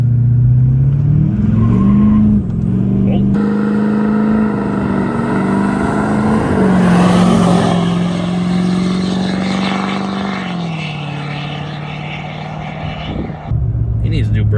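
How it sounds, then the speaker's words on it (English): A high-mileage Duramax LMM diesel pickup truck accelerates hard in a 0 to 60 run. The loud, continuous engine drone climbs and shifts in pitch through gear changes, then settles and fades near the end. "All right, guys, 0 to 60 in Kyle's truck."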